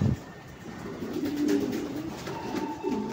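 Racing pigeons arriving at their loft coo softly nearby in low, throaty bursts against a faint outdoor background.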